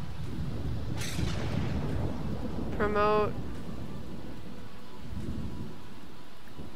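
Steady rain hisses throughout with a low rumble of thunder beneath in The Sims 4, while a voice briefly speaks over it.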